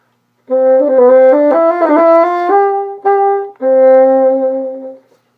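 A bassoon plays a lively ornamented melody from a Weissenborn etude with quick turns and trills, then settles into longer sustained notes, heard alone and close.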